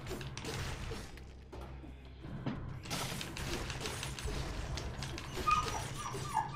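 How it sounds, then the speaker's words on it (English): A dog in the room whimpers and lets out small high yips, faint and intermittent, over quiet background clatter. "Apologies for the dog."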